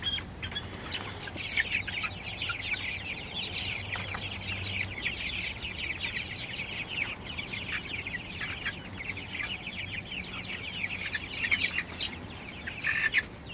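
Chickens cluck and chatter steadily on a chicken farm, a dense flock sound held close and fairly loud throughout, with a few sharper calls standing out near the end.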